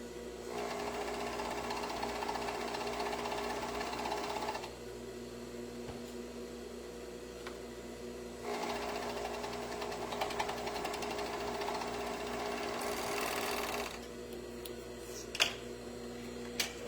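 A sewing machine stitches the end of a sweater in two steady, whirring runs separated by a pause, with a few clicks and handling sounds at the end.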